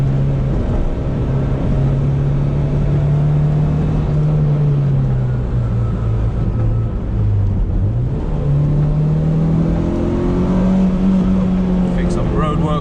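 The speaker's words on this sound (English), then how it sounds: "Gear changes so nice and smooth." Steady engine drone from a Honda Civic Type R EK9 driving on roads in Japan, heard from inside the cabin with pitch rising and falling through smooth gear changes, while someone talks over it.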